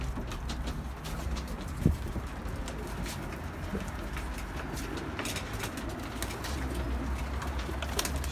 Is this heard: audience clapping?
no